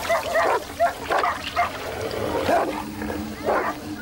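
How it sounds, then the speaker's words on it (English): Dogs confronting a hooded snake bark in several short, sharp bursts with uneven spacing, fairly close and loud over a steady background hum. "With sharp claws and powerful teeth, the dogs are formidable enemies."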